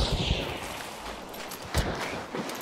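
Gunfire in the video game Hunt: Showdown comes as a burst of several distant shots, with two sharper reports standing out over a continuous noisy background.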